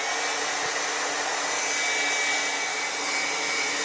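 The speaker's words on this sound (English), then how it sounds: "I've just got the heat gun on the first setting and I'm just waving it around" A heat gun on its lowest setting blows steadily while warming a circuit board during a stepper driver chip replacement, giving a continuous, even, close airy roar with no breaks.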